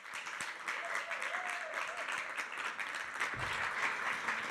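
Warm audience applause at a neuroscience talk, steady dense clapping at moderate volume with faint voices underneath.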